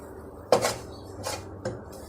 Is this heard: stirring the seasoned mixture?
yes